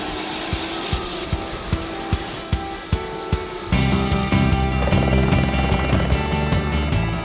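A helicopter flying over a volcano: its rotor thumps in a steady beat, then the engine roar swells into a loud, dense drone with whining overtones.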